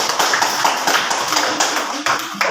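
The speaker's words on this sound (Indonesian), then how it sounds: "Tepuk tangan." Applause in a classroom: a group of students clapping together in a quick, busy patter, fairly close and moderately loud.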